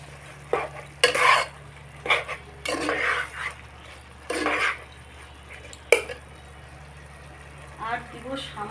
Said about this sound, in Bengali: দিয়ে ভালোভাবে মিশিয়ে নেব